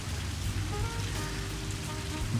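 Steady rain patters on surfaces outdoors during a training session, a constant wash of hiss with low rumbling underneath, no voices.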